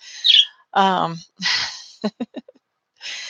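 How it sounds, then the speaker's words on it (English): A pet parakeet chatters in a quiet room, giving a few squawky, voice-like bursts and then a quick series of short chirps, close to the microphone with gaps of silence between them. "I'm babysitting a parakeet, and apparently he likes to talk when I talk."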